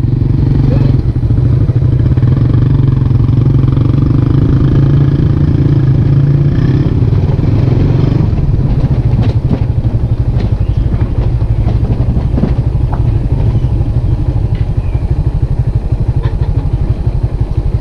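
A Suzuki Raider 150 carbureted motorcycle with a low idle speed and a hot engine runs close by, giving a steady, loud low rumble throughout with some rattling clatter in the second half and no clear talk.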